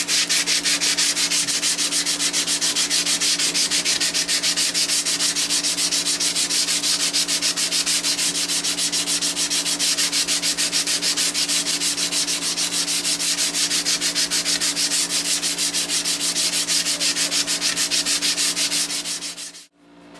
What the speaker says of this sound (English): So we're going to go ahead and get into sanding.